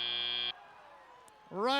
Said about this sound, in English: as the buzzer goes off and the robots get shut down